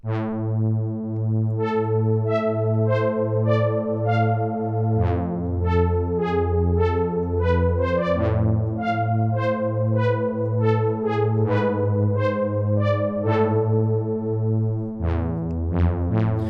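A bright synth lead plays a sustained melody with a thick, wavering chorus-like shimmer from detuned oscillators, over a low held bass tone.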